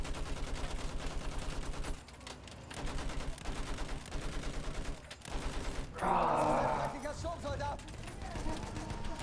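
Rapid machine-gun fire in the World War I shooter Battlefield 1, a rhythmic stream of shots in repeating bursts with short pauses and a louder blast near the end, under ongoing talk.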